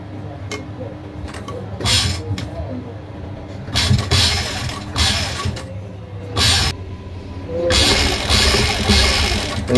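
A sewing machine stitches lace onto an angrakha neckline, running in several short whirring bursts of a few seconds each, separated by brief pauses and loud and close.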